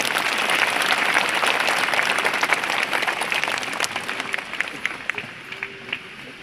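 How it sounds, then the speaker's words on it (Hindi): Congregation at a Catholic priestly ordination Mass, giving a sustained round of loud applause, dense and even at first, then thinning into scattered claps toward the end. "अब हम लोग अपनी खुशी प्रकट करते हुए एक साथ कहें ईश्वर को धन्यवाद और जोरदार ताली बजाएंगे।"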